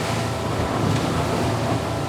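Highfield ADV 7 crossover boat with a 200 hp outboard running at about 20 knots through rough sea, its hull slamming and spray hissing in a dense, continuous wash of water and wind noise.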